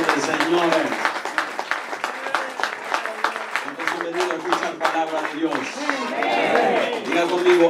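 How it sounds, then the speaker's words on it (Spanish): Church congregation applauding after a sermon, steady dense clapping throughout with a few voices and cheers mixed in, fairly loud and close. "Damos un fuerte aplauso al Rey de Reyes y Señor"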